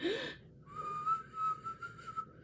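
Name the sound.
whistling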